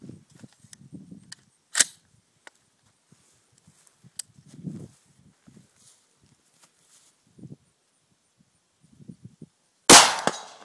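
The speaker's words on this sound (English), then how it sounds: "I'm shooting the AR15 100 yards away out of steel plate." Several sharp, isolated rifle cracks ring out as an AR15 fires at a steel plate 100 yards off, spaced several seconds apart. A louder, longer blast comes at the end, with faint rustling and movement in between.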